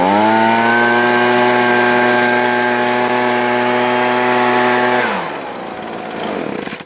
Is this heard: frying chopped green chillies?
no